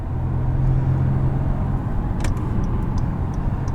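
A 2018 Acura TLX A-Spec with a 3.5L V6 and nine-speed automatic accelerates, giving a steady, dense engine rumble heard from inside the car, holding a constant drone with faint higher clicks near the end.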